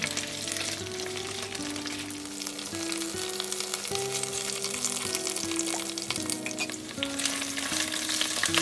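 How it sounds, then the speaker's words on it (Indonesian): Spices sauté in oil with asam kandis and lime leaves for lontong gulai tauco, giving a steady close sizzle with stirring scrapes throughout. Faint sustained tones run underneath. "Nah ini kita tumis dulu sampai dia layu dan aromatic oilnya keluar."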